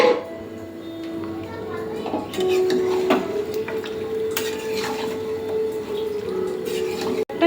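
Parboiled meat frying in a kadai, with a spoon scraping and stirring against the metal pan and a low sizzle running steadily throughout, while a person talks over the cooking.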